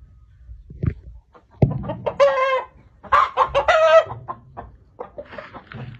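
A Thai-American fighting rooster clucks and calls close by in a series of short, loud bursts.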